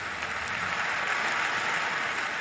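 Applause spreads through Westminster Abbey after the eulogy at Diana's funeral: a broad, steady wash of many hands clapping that carries on without a break, heard from a distance within the large hall.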